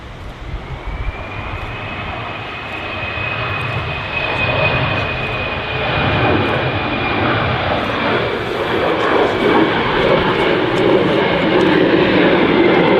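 A KLM Embraer jet airliner at Manchester Airport passes on runway 05L, a loud sustained engine roar with a high whine, building slowly and holding for over ten seconds.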